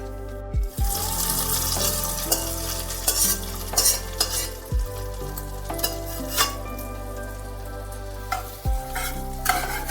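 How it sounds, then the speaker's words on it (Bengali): Kasuri methi tossed in a hot pan for a masoor dal tempering: a continuous loud sizzle broken by repeated spatula scrapes and knocks against the pan, spaced irregularly throughout. "আর দিয়ে দিতে হবে কসুরি মেথি ভালো করে একটু ছকে নিয়ে"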